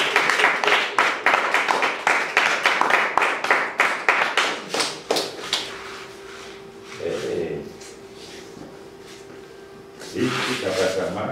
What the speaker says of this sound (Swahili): Piga makofi kwa kile hiyo.